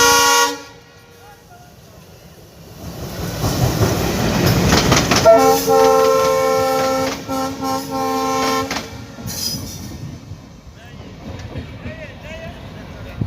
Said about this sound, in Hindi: ट्रेन आपको सुनाई देती होगी